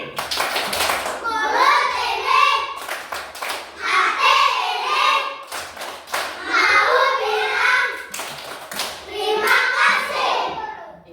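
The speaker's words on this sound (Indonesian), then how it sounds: "Tepuk terima kasih mulai." Schoolchildren in a classroom perform a rhythmic thank-you clap, bursts of patterned hand claps in repeated phrases with brief pauses, mixed with children's chanting voices.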